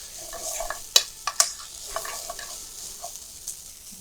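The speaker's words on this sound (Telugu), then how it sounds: "సో ఆనియన్స్ ఫ్రై అయ్యాయండి" Onions fry in a pan for a potato and capsicum masala curry, a soft steady sizzle with a few sharp utensil clicks and scrapes near the one-second mark, and no voices.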